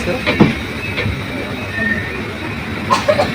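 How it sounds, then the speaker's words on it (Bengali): An express train, heard from on board, rumbles along steadily at low speed, with a continuous wheel-on-rail drone and a couple of faint squeals. "ট্রেনটা অতি আস্তে ধীরে ধীরে"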